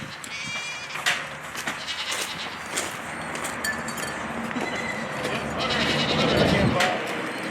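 Goats being herded on a farm bleat over and over, close and loud, with scuffling movement and people talking throughout.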